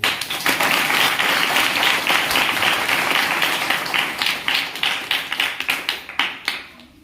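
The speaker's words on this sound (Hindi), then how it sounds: "प्रभु धन्यवाद, बहन जी के लिए ताली बजा दो" A church congregation claps for a sister during a Hindi worship service, dense rhythmic clapping that starts full and loud, then thins into slower, separated claps that fade out toward the end.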